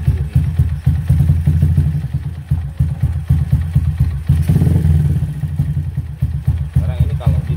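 A Yamaha Jupiter MX New with a bored-up engine runs on a standard spark plug, a loud close single-cylinder putter with a rough, uneven idle and a brief rev in the middle, while someone talks over it throughout.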